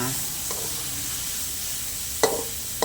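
Minced pork stir-fries in a pan with a steady close hiss and crackle, broken by a couple of sharp scraping clanks of a spatula, for a stir-fry of asparagus with minced pork.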